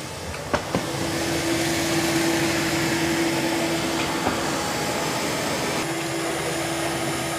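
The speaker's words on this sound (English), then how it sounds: "it's doing a pretty good job vacuuming" Narwal Freo X Ultra robot vacuum running across a floor, a steady close broadband whir with a faint tonal hum, with a couple of brief knocks near the start and no talking.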